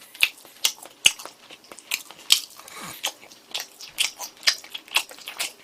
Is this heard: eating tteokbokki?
yes